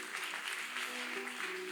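A church congregation applauds and cheers to acclaim the Lord, a dense, even wash of clapping that is distant and faint throughout.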